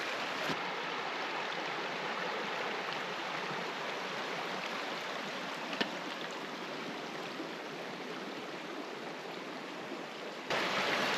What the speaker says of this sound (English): the river at the western end looks like this